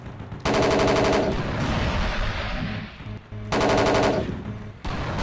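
Heavy automatic gunfire in the Battlefield Yugoslavia video game, two loud sustained bursts separated by a lower rumble of combat noise, with no talking.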